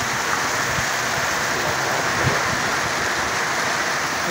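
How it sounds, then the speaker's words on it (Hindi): Rainwater gushing and splashing steadily from roof spouts on both sides amid heavy rain in Jhelum, Pakistan, a constant rushing wash with occasional louder splats close by. "ये परनाले का पानी है दोनों साइड पे।"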